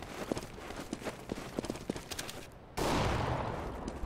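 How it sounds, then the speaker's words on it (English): Gunfire in a CS:GO competitive match: a run of sharp, evenly spaced shots rattles off, followed by a louder, denser burst of noise near the end. "That guy almost shot me."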